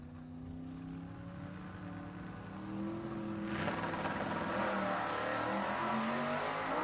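A nitro funny car thunders down a drag strip at a vintage-style NHRA event, its engine note rising from a steady drone into a loud, swelling full-throttle roar that builds after a few seconds and holds to the end.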